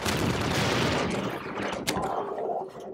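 Weapon fire in Half-Life 2, a dense, continuous burst of shots filling the first half, then a single sharp crack near the two-second mark before the firing thins out and fades.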